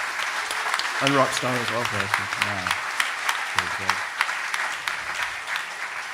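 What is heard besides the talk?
audience applause at a conference talk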